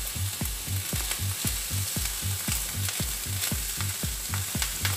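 Peas go into spicy rice frying in a pan, a loud steady sizzle broken by regular tapping and scraping stir strokes about twice a second, close up and without voices.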